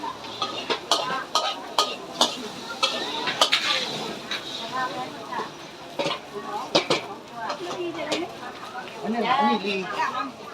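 Omelette frying in an iron pan at a temple fair food stall in Phayao, soft sizzling under sharp clanks of utensils against the pan, with people talking nearby throughout.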